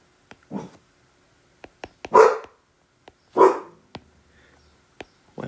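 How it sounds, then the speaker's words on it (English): A dog barks in a few loud, separate bursts close by, mixed with sharp clicks and knocks and long quiet gaps between them. "While he continues to serenade you with the lovely sounds of his barking."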